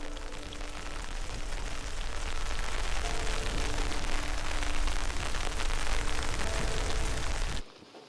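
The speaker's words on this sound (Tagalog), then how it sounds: "biglang nagdilim ang kalangitan at biglang bumuhos ang malakas na ulan" Heavy rain pours down in a dense, steady hiss that cuts off abruptly near the end.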